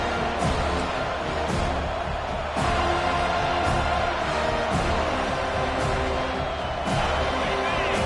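A home crowd roars steadily in the College Football 25 video game on a third-down defensive stand, a dense, loud, unbroken wall of stadium noise with faint rhythmic thumps underneath.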